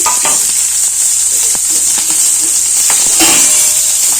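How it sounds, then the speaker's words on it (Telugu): Onions fry loudly in a pan for an egg roast, a dense, continuous sizzle up close with a few faint clinks and scrapes of stirring, with no voices. "ఆనియన్స్ మంచిగా వేయించుకున్నాను"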